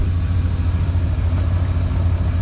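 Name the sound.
1993 GMC Suburban truck engine while driving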